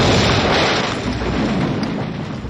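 German bombs bursting around warships at sea give a loud, sustained roar of explosions that fills the whole clip, with no voices.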